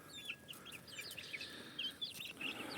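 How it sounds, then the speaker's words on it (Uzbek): Hens and month-old chicks cluck and peep close by in a farmyard. Short high chirps repeat over a steady bed of low clucking and murmuring, with no voices. "Mana cho'jalar."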